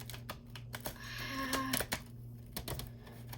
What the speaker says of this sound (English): I'm gonna try and shuffle these really big cards.